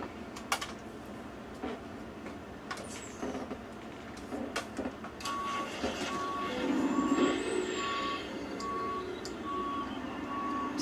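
Video game truck backing up with steady, evenly spaced reversing beeps over engine rumble and an air brake hiss, following several sharp clicks and knocks, with no talking.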